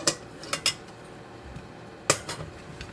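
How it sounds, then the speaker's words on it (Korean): A cake pan filled with batter is tapped against a surface to knock out air bubbles: a few sharp metallic knocks in two quick clusters, close and clear against a quiet background. "반죽 안에 기포가 빠지도록 톡톡 충격을 주시고"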